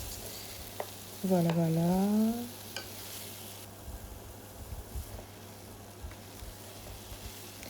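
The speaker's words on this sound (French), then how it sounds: "Là, on va venir mettre nos 2 carottes coupées." Two cut carrots dropped into a veal stew pot and stirred, a brief loud sizzle and scraping stir rising over low kitchen noise, then fading to quiet simmering while a voice speaks briefly.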